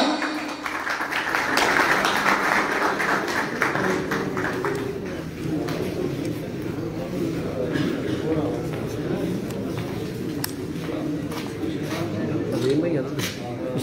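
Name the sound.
audience applause for the tournament runner-up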